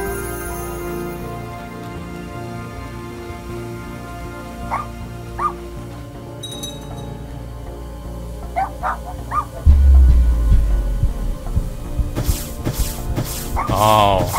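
Dog barks from the video game Little Misfortune, a few short yips and barks at moderate distance over a steady ambient music bed, with someone talking intermittently.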